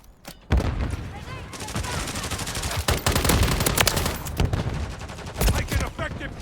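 Dense gunfire in a Call of Duty Modern Warfare 3 Domination match on the Rust map, rapid overlapping automatic bursts and sharp cracks almost without pause, with occasional heavier booms and game voice callouts mixed in.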